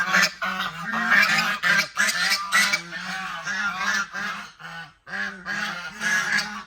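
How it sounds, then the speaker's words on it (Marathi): A crowd of ducks at a duck market honks and quacks loudly and continuously, overlapping calls in quick bursts with a brief pause near the end. "तुम्ही कोंबडी बाजार पाहिला ना, बदक बाजार पहा पहिल्यांदा."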